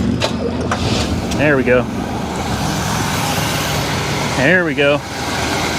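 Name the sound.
1979 GMC Caballero engine running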